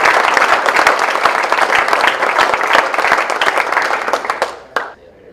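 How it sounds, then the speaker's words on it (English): A crowd applauds at a charity campaign celebration for board members, dense steady clapping filling the room for about four seconds before tapering off into a few scattered claps. "So let's give those folks a round of applause."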